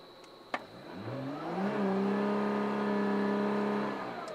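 A sharp click, then a Nissan GT-R engine revs up in launch control mode and holds a steady, high-pitched drone for a few seconds before easing off.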